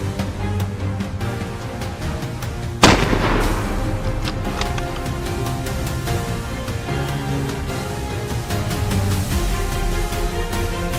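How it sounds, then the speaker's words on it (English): Gunfire rings out in a forest during a wild boar hunt: repeated sharp shots sound from several directions. One loud, close report cracks out early, followed by a dense run of more distant reports. "gunfire echoed from all directions, signaling that more fleeing boars had been taken down."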